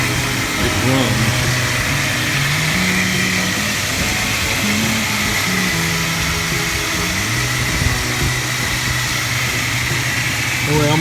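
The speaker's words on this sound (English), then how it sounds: "this engine runs pretty smooth" A Jeep WJ with the 4.0 engine and 202,000 miles idles steadily, a smooth continuous low hum with a faint whine, running unbroken and up close through the whole stretch.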